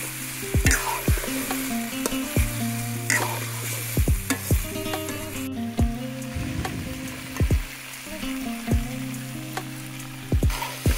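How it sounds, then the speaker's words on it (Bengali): Chicken meat and spiced potatoes fry steadily in a pot for a village-style desi chicken biryani, with an even sizzle broken by repeated scraping and knocking of a stirring spoon. "এবারে আমি কষানো আলু মশলার মধ্যে মাংসটাকে দিয়ে ভালো করে কষিয়ে নেব।"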